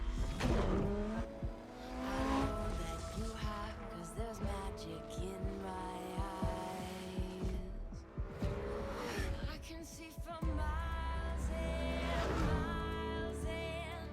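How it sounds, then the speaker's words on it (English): Racing car engine roaring in a video game trailer, revving and shifting over about fourteen seconds with layered music and effects, loud and continuous. "Car goes vroom."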